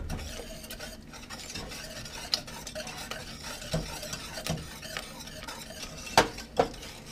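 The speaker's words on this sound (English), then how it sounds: "So they want you to whisk this together a little bit" Lemon curd ingredients whisked together in a bowl before any heat goes on, a steady stream of soft scraping and stirring strokes with a few sharper clinks of the whisk against the bowl, close and alone.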